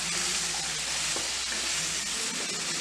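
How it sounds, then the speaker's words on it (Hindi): Chopped carrots and potatoes sizzle steadily in a pan over low heat, a close, even frying hiss with a few soft stirring knocks and no voices. "और अब हम इसमें डाल देंगे अपनी कटी हुई गाजर। अच्छे से इसको मिक्स कर लेंगे।"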